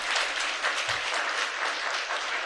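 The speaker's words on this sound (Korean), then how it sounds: "박수로 축복해 드리겠습니다." A church congregation claps steadily for newly ordained elders during an ordination thanksgiving service at Hangang Church, a dense, even wash of hands with no voices on top.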